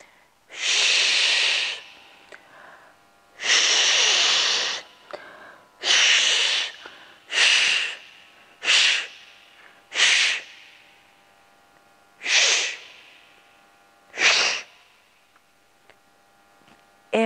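A series of forceful, hissing 'ch' breath bursts from a breathing exercise in a dance technique class, about eight long to short exhalations spaced by quiet inhalations, close and clear with no speech over them.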